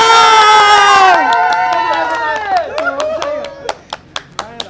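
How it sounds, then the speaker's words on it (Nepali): Audience clapping at a Nepali blind-date game show, heard as a handful of sharp, scattered claps that follow a fading musical tone and grow sparser toward the end. "ताली बजाउ"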